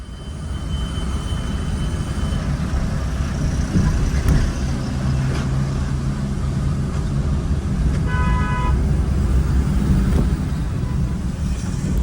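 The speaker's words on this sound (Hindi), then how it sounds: "यहाँ पे तो बहुत ट्रैफिक था आज" Dense road traffic on a busy Indian highway between Mumbai and Gondavale, a steady roar of engines and tyres with short car horn toots cutting through around the middle and near the end, fairly loud throughout.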